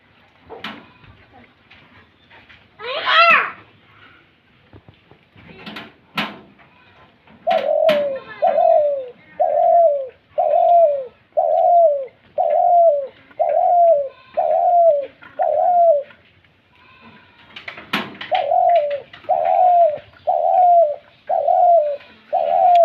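Pet pigeons or doves coo in a steady repeated rhythm, close and clear, with a series of about a dozen evenly spaced coos after some brief rustling and calls at the start.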